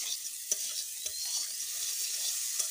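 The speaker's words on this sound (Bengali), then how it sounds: "আলুটা যে আমি ভেজে রেখেছিলাম সেটাও এখন দিয়ে দেব" Fried potatoes and peas sizzling in a pan over medium heat, a steady hiss with a few soft knocks of a utensil, fairly quiet and close with no voices.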